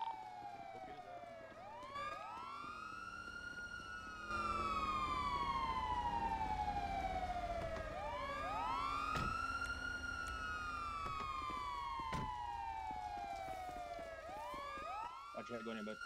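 Police car siren in the video game GTA V, sweeping in slow rising and falling wails that repeat through the whole clip, fairly loud and steady, with faint background noise and occasional radio-like chatter underneath.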